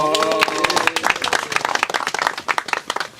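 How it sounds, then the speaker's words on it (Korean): Crowd of entrants at a squid fishing competition in Auckland claps together, a dense, fairly loud burst of hand claps that thins into scattered claps toward the end. "박수 한번 칠까요?"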